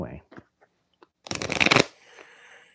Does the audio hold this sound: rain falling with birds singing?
no